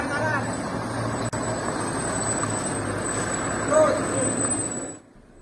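Two trucks carrying election ballot papers pull up at a KPU election commission warehouse in Kendal, a steady loud engine rumble with a sharp hiss near the end before it cuts off, a high electronic tone running throughout.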